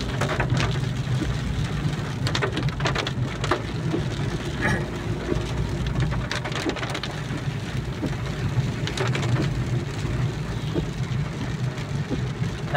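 Steady rain pours down on a road in a Konkan village, a continuous dense hiss of drops on surfaces with faint traffic rumble beneath and no voices.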